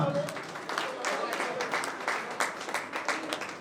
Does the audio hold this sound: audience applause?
yes